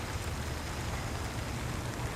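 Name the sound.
rain falling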